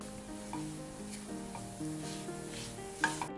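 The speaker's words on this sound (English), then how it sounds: "cook it in medium heat until the jaggery melts" Coconut and jaggery stuffing cooks in ghee over medium heat, giving a soft steady sizzle with light stirring scrapes. Background music plays throughout, and a brief clatter comes near the end.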